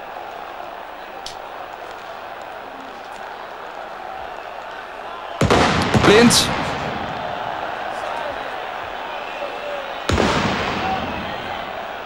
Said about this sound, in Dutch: Het vuurwerk dat met enorme dreunen hier ontploft is afkomstig uit het Turijnse vak.